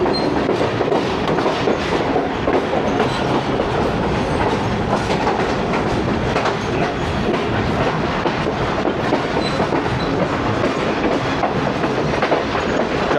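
The Tezgam express rolls steadily through the large Lala Musa junction yard, a continuous loud clickety-clack of wheels over rail joints heard from on board an old AC sleeper coach, with no talking.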